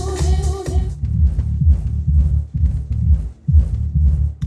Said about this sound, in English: that's my house rattling, not the sub